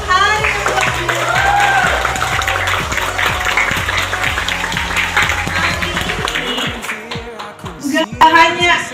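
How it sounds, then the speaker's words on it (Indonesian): An audience at an entrepreneurship seminar gives applause, loud sustained clapping that thins out toward the end, with a voice over it and a brief burst of music near the close. "kita kasih aplaus dulu untuk hari kedua"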